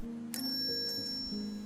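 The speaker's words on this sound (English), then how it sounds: "When I drop the bearing onto the bell, it rings nicely." A metal bearing dropped onto a small bell strikes it once, giving a bright, clear ring that sustains and slowly decays over a faint low hum.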